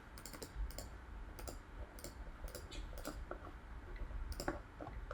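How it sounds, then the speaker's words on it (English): Fingers tap out quick bursts of keystrokes on a computer keyboard, light clicks arriving in irregular clusters with short pauses, near but fairly quiet. "I'm just going to type it in here"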